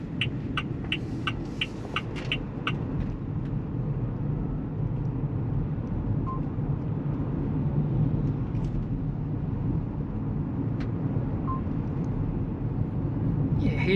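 Steady low rumble of road and tyre noise inside a 2024 Haval Jolion Ultra Hybrid driving over rough roads, constant and fairly loud, with a few faint clicks near the start.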